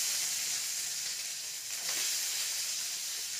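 Chopped onions hit hot oil with fenugreek, fennel and black cumin seeds, giving a steady, bright sizzle and hiss that carries on without a break.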